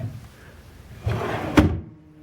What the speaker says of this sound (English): See anything in this drawer?